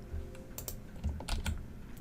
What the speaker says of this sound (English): I'm going to hit Control E on my keyboard